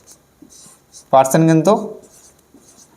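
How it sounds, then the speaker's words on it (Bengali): A marker scratches an answer onto a board during a maths lesson, with faint intermittent strokes around a short spoken word. "উত্তরটা এখানে লিখছি"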